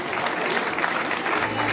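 Applause from an audience at a charity running event fills the whole stretch, a steady broadband clatter of many hands clapping at a fairly close distance with no pauses.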